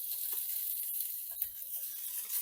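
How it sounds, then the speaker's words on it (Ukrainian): Soft, steady sizzling of pork belly frying in a preheated pan, with a few faint clinks and stirring sounds. "на розігріту сковорідку додаю підчеревину"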